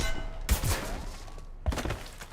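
Gunfire in the Mass Effect video game, a few sharp low thumping shots at about half a second and again near 1.7 seconds, with game sound and music continuing in between.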